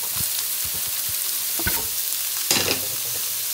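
Onions and tomato paste frying in a pan, a steady broadband sizzle throughout with several soft spoon scrapes and stirring knocks, louder bursts of stirring near the end.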